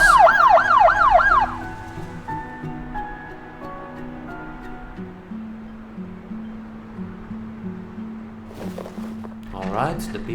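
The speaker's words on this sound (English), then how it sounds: "And there is my ambulance." An ambulance siren in the hospital management game Project Hospital wails loudly in a rapid rising-falling pattern for about a second and a half, then fades into in-game hum and tones.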